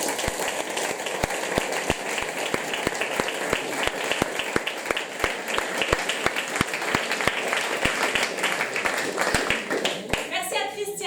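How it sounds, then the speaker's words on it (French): A theatre audience applauds steadily for several seconds, with sharp individual claps standing out in the continuous clatter, thinning out at the end. "On les applaudit bien fort."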